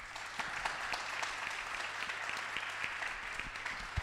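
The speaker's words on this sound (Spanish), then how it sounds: "Un aplauso." Audience applause rings out at a curvy fashion model event, a steady moderate patter of many hands clapping with a few sharper individual claps standing out, no voices over it.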